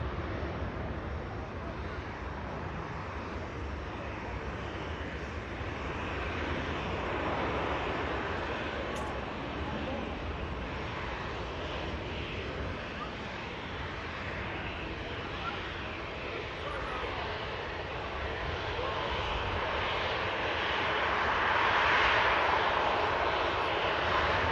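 Aircraft engines roar at Manchester Airport as a TUI 737 taxis past the runway visitor park, a broad steady jet rumble that swells toward the end, with people talking over it and some wind noise.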